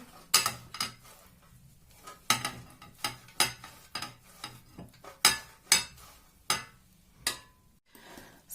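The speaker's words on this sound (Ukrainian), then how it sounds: "от я 200 грам сиру відміряла, і тепер мені це все треба сюди натерти, натерти" Cheese being grated by hand into a bowl for a lazy achma bake, a series of sharp, rhythmic scraping strokes close by, each burst followed by a short pause, with no talking.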